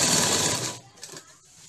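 Sewing machine stitching a pleat on a dhoti shalwar, a fast close whirring run that stops abruptly partway, followed by quieter handling and a voice.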